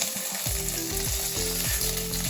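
Chana dal fries in hot oil in a village-style home kitchen, a steady close sizzle with a few rhythmic scraping stirs, loud and free of speech.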